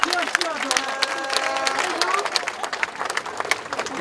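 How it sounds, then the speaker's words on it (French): Crowd clapping at a street demonstration in Bordeaux, scattered claps alongside voices and a brief tonal whistle or chant, loud and close, mixed with crowd talk. "On applaudit bien fort, Dorian."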